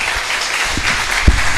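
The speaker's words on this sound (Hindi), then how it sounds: "ताली बजनी चाहिए फिर से।" Audience applause at a Hindi-language religious gathering, a brief burst of scattered clapping over a steady crowd murmur, with a couple of louder claps near the end.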